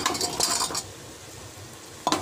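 Mutton trotters go into a pan of softened onions with a soft clatter and stirring scrape, followed by a faint sizzle and a renewed clink near the end.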